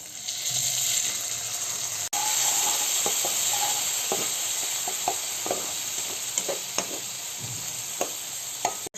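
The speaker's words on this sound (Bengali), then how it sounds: "এরপরে কিছুটা জল দিয়ে এটাকে কষিয়ে নেব" Onion with salt, turmeric and chili powder masala sizzling in a pan, a continuous close hiss with scattered clicks and scrapes of stirring, no voices.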